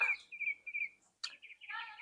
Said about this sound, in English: do you hear the birds outside?